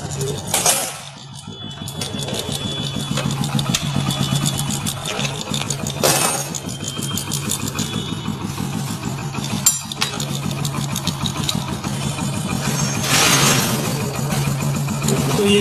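A Hero Splendor motorcycle idles close up with a timing chain rattle, a steady mechanical chatter over the engine's even low putter, with a few metallic clinks and brief handling noises.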